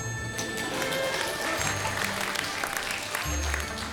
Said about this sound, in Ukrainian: Не зайшов жарт, проте одно проте все одно всі аплодують